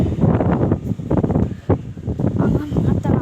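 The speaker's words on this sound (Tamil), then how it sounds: "சரியான காற்று." Strong wind buffeting the microphone outdoors while fish are being moved between water containers, gusty rumbling bursts rising and falling in quick succession, loud and close throughout.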